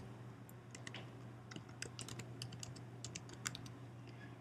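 A search term is typed on a computer keyboard in a quiet room, with irregular bursts of soft, close key clicks over a low steady hum and no talking.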